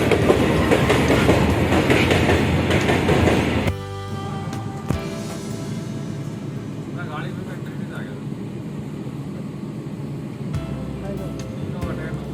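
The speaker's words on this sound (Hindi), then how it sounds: "हम लोग बैठ चुके हैं ट्रेन में, ट्रेन आ गई है।" A Bareilly-to-Rohtak intercity train rumbles and rattles loudly at a station, then the roar drops sharply to a quieter background of faint clatter and station ambience.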